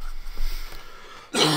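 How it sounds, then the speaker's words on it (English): A single short, harsh cough bursts out near the end after a moment of faint background noise. "And with that cough"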